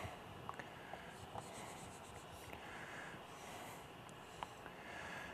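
A pen scratches faintly across paper while a circuit diagram is drawn by hand, with soft irregular strokes and occasional small taps in a quiet room.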